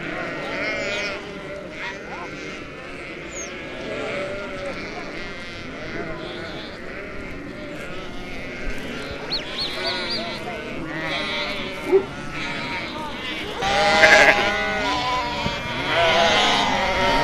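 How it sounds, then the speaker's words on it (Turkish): A flock of thirsty sheep bleats repeatedly, many overlapping calls near and far, with people talking and calling out over the animals. "Koyun nasıl susamış."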